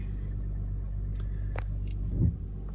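A 2016 Audi Q5 TDI diesel engine hums as a steady, low rumble while driving, with a brief swell near the end and no talk over it.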